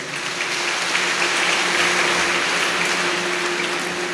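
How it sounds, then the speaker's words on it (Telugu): Applause from a church gathering celebrating Mother Mary's birthday at a house-blessing festival in Vegeswarapuram, Eluru: a steady wash of many hands clapping over four seconds, with a faint sustained hum beneath. "మన అమ్మకి పుట్టినరోజు శుభాకాంక్షలు చెబుతూ మరొక్కసారి చప్పట్లు కొడదాం"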